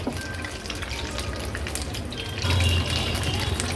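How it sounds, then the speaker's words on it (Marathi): Paneer pakoras frying in hot oil over a medium flame while being stirred, a steady dense sizzle and bubbling with a louder low rumble near the end. "हे पनीर पकोडा आपण एक दोन मिनटासाठी तरी मीडियम फ्लेमवर असं कंटिन्यू स्टर करत तळून"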